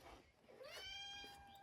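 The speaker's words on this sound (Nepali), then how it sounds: "बिल्लीले पनि म्याउ गर्न थाल्यो माछालाई देखेर" A cat meows at a fish, one drawn-out rising cry heard faintly at a distance over quiet background noise.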